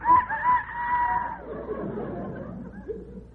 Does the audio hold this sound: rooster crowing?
yes